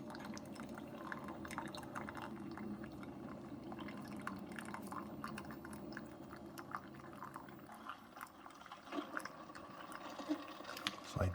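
Water drips in faint, irregular drops around a reusable refillable K-Cup filter in a Keurig coffee maker, a quiet liquid trickle over a low steady machine hum.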